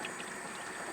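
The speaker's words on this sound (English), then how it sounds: "Let me pour a little bit of this out." Liquid fertilizer poured out of a fertilizer injector in a backyard garden, a steady, faint trickling splash running alone for a brief second.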